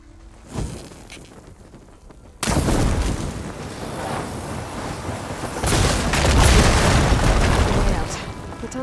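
A sudden loud blast in Horizon Forbidden West tears through tunnel debris, then a dense, sustained roar of crumbling rubble and rumbling swells again near the end, all after a quieter stretch.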